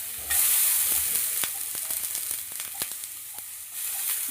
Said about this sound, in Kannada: ತೊಗೊಂಡು ಸ್ಲೈಸ್ ಆಗಿ ಹೆಚ್ಚಿ ಅದನ್ನು ಕೂಡ ಫ್ರೈ ಮಾಡ್ಕೊತಾ ಇದ್ದೀವಿ ಅದೇ ಆಯಿಲ್ನಲ್ಲಿ